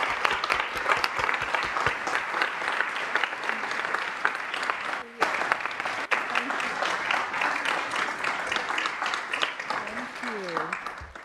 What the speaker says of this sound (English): please join me in a round of applause to thank Sabrina for all of her efforts